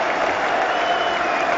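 A cricket crowd at a 2007 England vs India Test match roars and applauds in a dense, continuous wash of cheering, with a commentator's voice faintly under it.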